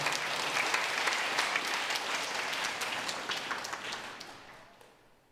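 Applause fills a church sanctuary during a Taiwanese-language Mother's Day worship service at a Presbyterian church, a congregation clapping steadily for the mothers before the sound thins and fades out toward the end.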